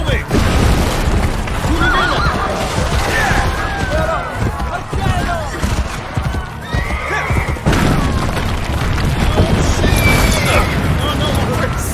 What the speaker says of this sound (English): Oh no, my horse. The horse is gone.